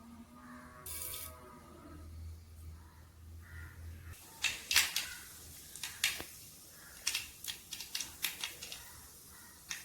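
Mustard seeds pop in hot sesame oil in a clay pot, a scatter of sharp, irregular crackles and ticks that starts after a few seconds of quieter, unrelated sound, faint overall and with no speech.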